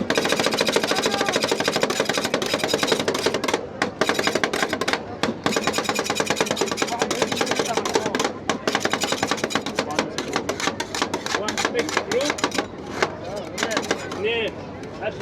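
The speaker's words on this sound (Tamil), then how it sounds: "அவங்க இந்த ஐஸ்கிரீம் மேக் பண்ணும்போது வந்து சவுண்டு ரொம்ப சாட்டிஸ்ஃபையாக இருந்துச்சு" Metal spatulas chop ice cream on a cold plate in a dense, fast, continuous clatter of hard knocks, loud and close.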